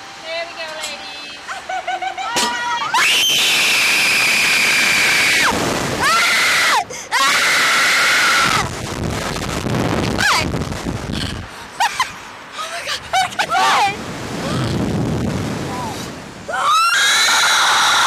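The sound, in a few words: people screaming on a SlingShot amusement ride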